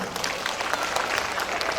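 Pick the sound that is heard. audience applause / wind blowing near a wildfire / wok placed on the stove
audience applause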